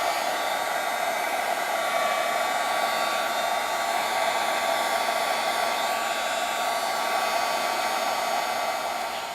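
A heat tool runs steadily while embossing a gold border on a card, a loud, continuous close-up blowing whine that holds evenly throughout, with no talk over it.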